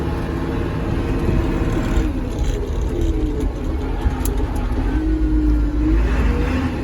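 A Cat IT28G loader's engine pulls hard in fourth gear, a loud, steady, close drone with a low tone that rises and falls slightly as it accelerates.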